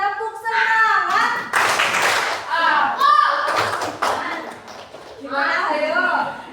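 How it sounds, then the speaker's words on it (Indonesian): Elementary school children in a classroom chant and clap in rhythm, with sharp bursts of hand claps alternating with group voices, loud and close. "Tepuk semangat."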